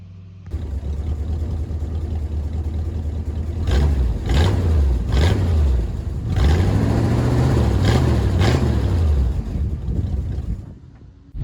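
A Ford Mustang Cobra engine with a side-exit exhaust idles with a rough, throaty exhaust, then revs up in several loud swells before settling and cutting off.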